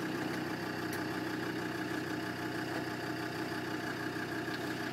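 Diesel TD5 engine of a 2006 Land Rover Defender 110 utility with a 5-speed manual, idling steadily just after starting, a low even rumble at close range with no talk.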